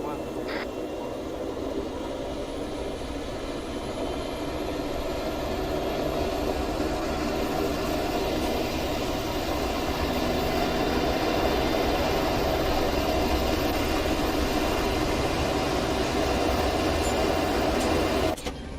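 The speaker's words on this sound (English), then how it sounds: "Yes, the USMC will be using Chinooks." Chinook helicopter in Arma 3 flying with a steady, heavy rotor and engine drone that holds loud and constant from start to finish, broadband rumble with no break.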